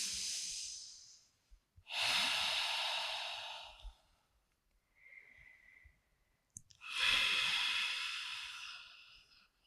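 Slow, deep breaths during a yoga flow class, long airy inhales and exhales, close and soft, repeated about three times with pauses between them.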